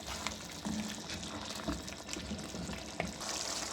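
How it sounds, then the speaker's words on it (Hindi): Minced keema sizzles and crackles in about a cup of hot oil, a steady close frying hiss with occasional stirring scrapes and no speech. "अब हम इसको ऑयल में भून लेंगे।"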